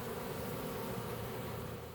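A steady, dense buzzing drone of many honeybees during installation of a bee package, continuous and fairly loud with no pauses.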